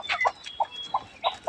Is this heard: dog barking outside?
no